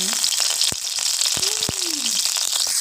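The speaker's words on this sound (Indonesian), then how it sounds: "goreng dulu guys sambil nunggu tempenya" Tempeh frying in a pan, a steady loud sizzle with faint clinks and stirring sounds, and no talk over it.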